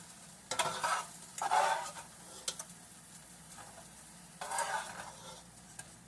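Chicken Philly filling sizzling in a pan while being stirred and shifted, giving several loud scraping, crackling bursts between a softer, continuous fry, close up and with no talk.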